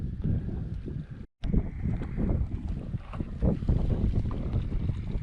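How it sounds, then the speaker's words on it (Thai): Strong gusty wind buffeting the microphone at a reservoir while fishing, a continuous loud rumbling roar with one brief dropout. "วันนี้เจอลมนะครับ ลมแรงมากเลยครับ"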